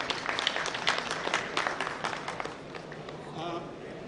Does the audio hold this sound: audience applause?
yes